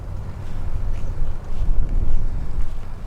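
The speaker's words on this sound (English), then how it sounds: "Fortunately, the wind is going to be going my way most of the time." Wind buffeting a microphone while cycling uphill, a low rumbling roar that swells and fades in gusts, fairly loud and continuous with no speech.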